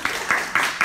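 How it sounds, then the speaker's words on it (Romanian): Brief burst of audience applause at a Romanian debate on discrimination against Roma and LGBT people, a few loud claps in quick rhythm, close and short. "aplauze"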